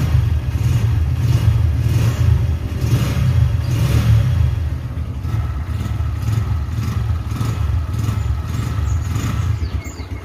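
A Honda Mega Pro motorcycle engine revs loudly and close, a deep throbbing roar with repeated throttle swells that settles into a steady, rough, high idle.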